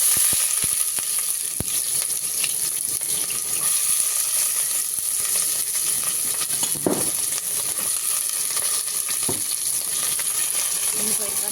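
Onions go into a pan of hot oil with cardamom pods for a dried meat and capsicum curry, producing a steady broad sizzle with a few faint clinks and stirring scrapes, close by, no voices.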